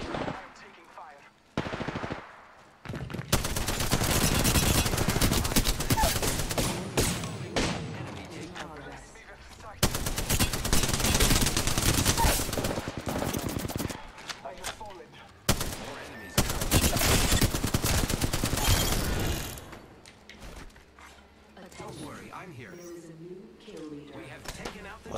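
Apex Legends gunfire: long stretches of loud, sustained automatic fire in heavy bursts, broken by short pauses, with in-game voices and effects mixed in.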